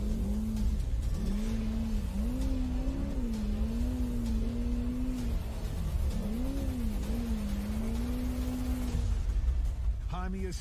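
An off-road race car engine revs and drones during the San Felipe 250 race, rising and falling in pitch, shifting through gears as it accelerates, fairly close, with a rough, steady roar underneath.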